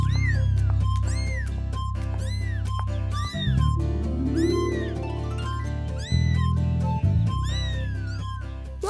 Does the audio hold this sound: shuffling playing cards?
no